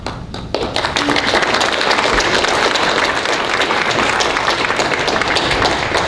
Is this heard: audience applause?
yes